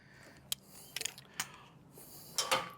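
Multigrip pliers clamp and turn a loose nut from behind, giving a few sharp metallic clicks and scrapes spread unevenly across a few seconds, close and moderately loud.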